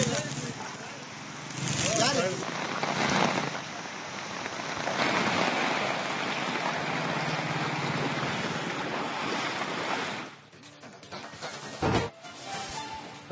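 Heavy monsoon rain pours down in Karwar during a storm with strong wind, a dense steady hiss that fades and thins near the end, with a voice talking over it.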